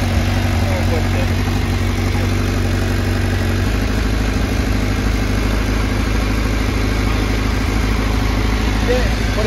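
A Honda CBR1000RR-R motorcycle engine idles in first gear as the clutch is slowly let out, a loud steady rumble with a slight change in tone partway through, with a voice speaking over it.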